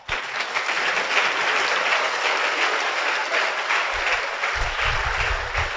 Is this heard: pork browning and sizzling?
no